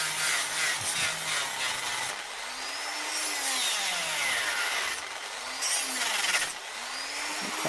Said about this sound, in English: Probably worth doing the last bit with a hacksaw.